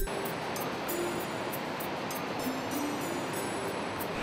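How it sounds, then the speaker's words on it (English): The Marshyangdi River flows on the Annapurna Circuit in Nepal with a steady, broadband rushing roar that stays even and continuous throughout, heard close with no talking. "This whole area with Marshyangdi River making noise with melody"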